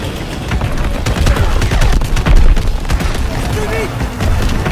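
Dense, continuous gunfire and booming explosions from a Call of Duty WW2 battle, loud and close throughout, with shouted voices mixed in during a chase.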